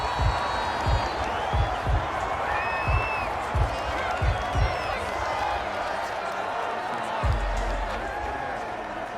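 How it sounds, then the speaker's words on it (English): A stadium crowd in Madden 21 keeps up a steady roar of cheering and noise, with low thumping beats at irregular intervals beneath it and a commentator talking over the din. "The crowd getting into it as we come up on a big third down"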